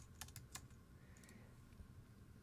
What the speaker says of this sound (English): just typing what I see in the score here